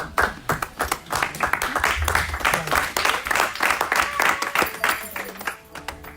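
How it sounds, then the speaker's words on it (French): A church congregation claps loudly and steadily in a dense, continuous wave of applause with cheering voices mixed in, filling the room close and full for several seconds. "Nous acclamons très fort pour la gloire de Dieu"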